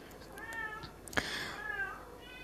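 A domestic cat meows several times in quick succession, fairly clear and moderately close, with one sharper, louder call in the middle and quiet room tone between the calls.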